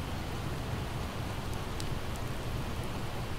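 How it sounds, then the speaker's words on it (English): Rain in the video game Project Zomboid falls as an even, steady hiss throughout, soft and continuous, with no talking. "Oh god, it's raining."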